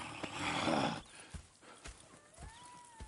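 A horse in the video game Red Dead Redemption 2 snorts and whinnies briefly, followed by a few scattered hoof clops and soft thuds at a moderate distance.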